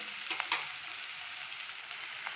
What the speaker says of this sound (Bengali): 5 ফোড়ন, পেঁয়াজ, কাঁচা লঙ্কা ভাজা ভাজা হয়ে গেছে